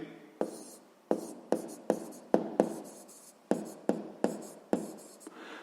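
A pen writing out a sixth-grade math solution on paper, heard alone and up close as a series of about ten sharp, separate strokes and scratches in an uneven rhythm.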